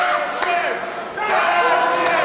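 Wrestling crowd being fired up by two wrestlers at an MPW event, a loud sustained roar of shouting voices with sharp cheers spiking through.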